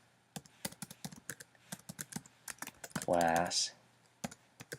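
Rapid, uneven keystrokes clatter on a computer keyboard nearby, with a quiet mains hum beneath and a short spoken word partway through.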